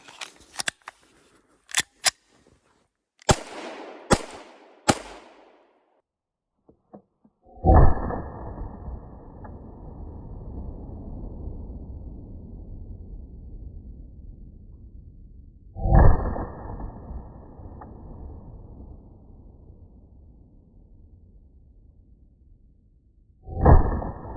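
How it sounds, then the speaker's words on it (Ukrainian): A Blow TR-92 starter pistol fires Ozkursan blank cartridges: a few sharp mechanical clicks of loading come first, then three loud, close blasts roughly eight seconds apart, each leaving a long ringing decay. "Тепер постріляємо. В один магазин спорядимо три набої Оскорсан"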